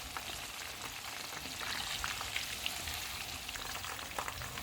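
Chicken lollipop pieces frying in hot oil over medium heat, a steady, dense sizzle with scattered crackling pops, close and continuous with no talking.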